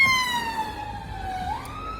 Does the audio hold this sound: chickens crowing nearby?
no